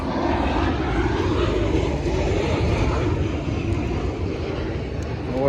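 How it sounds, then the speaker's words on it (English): An airplane flies overhead outdoors, a loud, steady engine drone that fills the whole stretch and fades only slightly at the end. "I'll wait till that plane's gone."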